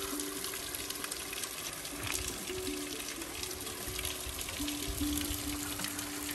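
A small waterfall in a village near Bukovel, Ukraine, gives off a steady, even rush of falling water that stays constant throughout, with no voices.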